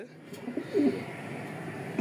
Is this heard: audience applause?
no